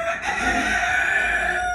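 A rooster crows in one long, sustained call, loud and close, with steady harmonic tones and no voices present.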